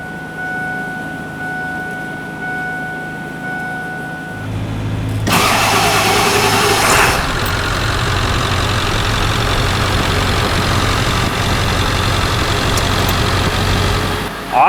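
A Ford F-350 pickup's 7.3L Powerstroke diesel cranks with a short whir, catches and settles into a loud, steady rumbling idle, close by with no talk.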